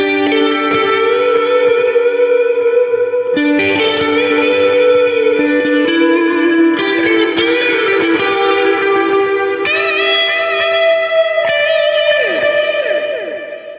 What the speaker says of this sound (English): Let's go to overdrive and let's add just the default version here.